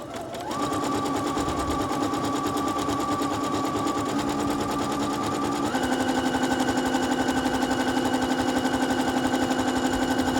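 A domestic sewing machine embroidering a heart runs in one continuous fast, even stitching whir, close and loud, its pitch stepping up partway through.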